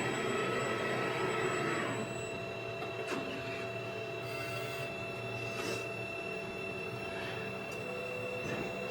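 A UV printer lays down a color pass on a custom wood piece, giving a steady mechanical whir with constant tonal hums and periodic soft swishes as the print carriage travels, fairly quiet and alone.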